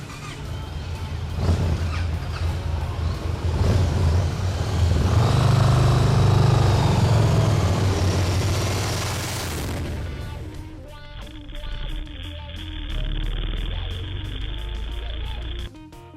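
Victory Cross Country and Star V-twin motorcycles ride on open road, their engines a loud, continuous rumble with wind rush that swells and then shifts to a steadier drone with a faint high whine.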